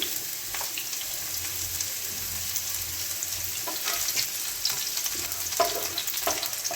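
Chopped garlic sizzles as it drops into a hot pan of oil for a peas omelet curry, a close, steady crackling fry with occasional stirring scrapes and no speech.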